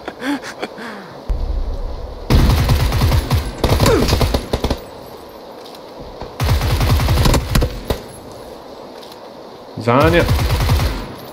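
Gunfire from the video game PUBG comes in several loud bursts of rapid automatic fire, with short pauses between them. A voice talks briefly in the clip.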